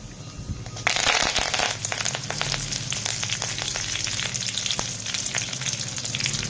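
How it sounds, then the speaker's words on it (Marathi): Fresh curry leaves hit hot oil already holding fenugreek seeds in a home kitchen pan for hair oil, setting off a sudden loud burst of sizzling that settles into steady crackling spatter with scraping stirs. "आता आपण टाकून घेऊया कढीपत्ता"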